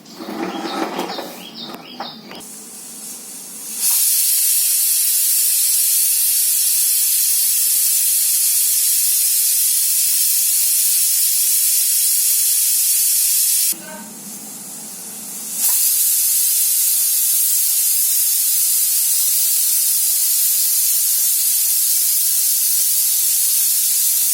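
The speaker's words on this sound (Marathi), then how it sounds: "ह्याच्यात चार शिट्ट्या होऊ देते" Loud continuous steam hiss from a pressure cooker whistle while cooking chickpeas, breaking off briefly midway, then resuming and holding steady to the end.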